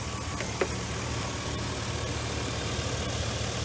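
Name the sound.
car engine idling with misfire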